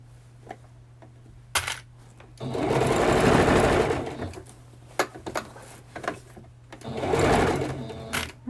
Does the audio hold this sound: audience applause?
no